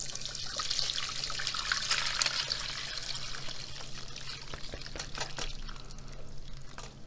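Boiled spinach drained after fifteen minutes in salted boiling water, the water pouring steadily into a strainer or sink as a continuous close splashing trickle that eases slightly toward the end, with no talk.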